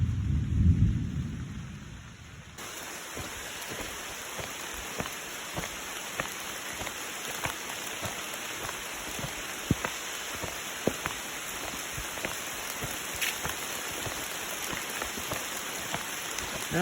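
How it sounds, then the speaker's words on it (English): Steady rain falls on a mountain trail during a thunderstorm, opening with a deep rolling rumble of thunder and then a dense hiss of rain with scattered drops close by. "Now we're getting some pretty good rain."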